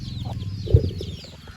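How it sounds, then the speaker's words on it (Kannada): Naked neck chicks cheep in quick, high chirps close by, with a single low cluck from a nearby fowl in the middle of the brief stretch. "ಅರ್ಧ ಕತ್ತಿನ ಕೋಳಿ ಮರಿಗಳು ಎಷ್ಟು ಆ್ಯಕ್ಟಿವ್ ಆಗಿದೆ"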